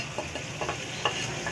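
Chicken fries with garlic and ginger in a pan, giving a low steady sizzle with a few soft stirring scrapes that come in short, even bursts.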